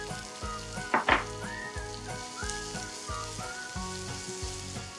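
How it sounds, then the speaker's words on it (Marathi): Onion and asafoetida hit hot oil with lightly golden garlic in a pan, giving a steady close sizzle with brief louder crackles near the start, while music plays underneath throughout. "यामध्ये घालूयात हिंग आणि बारीक चिरलेला कांदा।"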